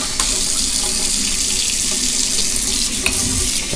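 Water pouring from a newly installed budget kitchen faucet into a sink, a loud continuous splashing rush close by with small clinks, no talking.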